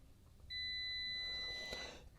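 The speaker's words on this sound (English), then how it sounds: "connect the outside shield to the outside. We should hear a beep." A voltmeter's continuity-test beep sounds steadily for about a second and a half on coax cable, clear and close, then stops abruptly.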